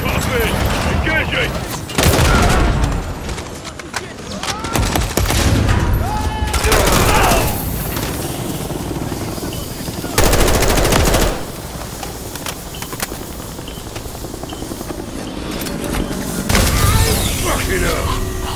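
Heavy gunfire aimed at a helicopter in Call of Duty Modern Warfare III: sustained machine-gun bursts and loud volleys, with shouted voices over the firing.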